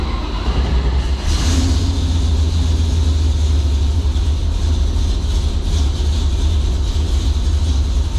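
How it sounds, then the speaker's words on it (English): A Rover 4.6 V8 engine on an Omex ECU idles on a dyno, a loud, steady low rumble with constant mechanical droning and no speech. "it's just allowed the vehicle to start and idle nicely"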